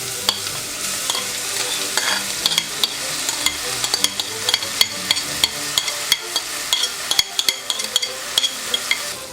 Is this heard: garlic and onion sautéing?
yes